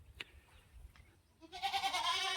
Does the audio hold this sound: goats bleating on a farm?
yes